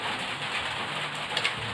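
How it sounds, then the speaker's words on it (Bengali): Steady rain falls outside on a monsoon day, making a dense, even hiss of drops on surfaces that holds at moderate loudness, with no voices. "বাইরে বৃষ্টিও পড়ছে।"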